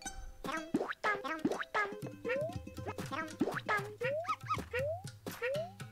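Cartoonish dogs in the video game Yoshi's Crafted World give bouncy, springy yips and rising boing-like chirps, repeating several times close up over a bright game soundtrack, with someone talking over it.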